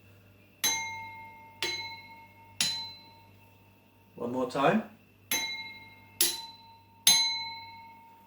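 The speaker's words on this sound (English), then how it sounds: "So my 3 glasses, which are the same, they make the same pitch sound when I tap them." Identical glasses tapped one at a time, each giving the same bright ringing clink that decays slowly; six taps in all, with a brief spoken phrase in the middle.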